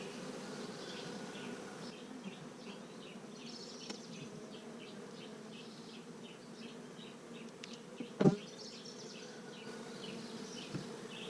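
Steady, droning buzz of many honey bees inside a hive during a hive inspection, continuous and close, with a brief sharp knock partway through.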